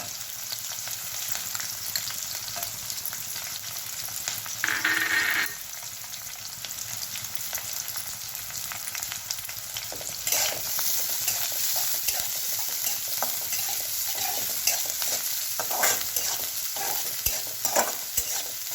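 Finely chopped onion and green chilli sautéing in a pan, a continuous loud sizzle with intermittent spatula scrapes and stirring throughout; no speech.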